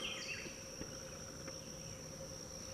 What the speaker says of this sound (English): Boy, I can hear the bees.